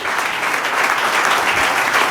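Steady, dense clapping from a church congregation during a Palm Sunday prayer service, loud and continuous throughout with no break and no voices over it.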